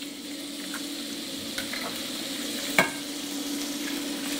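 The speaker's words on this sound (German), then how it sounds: "Während die Eier braten" Eggs frying in lightly salted butter in a pan, giving a steady, even sizzle close up with a couple of faint clicks and no talking.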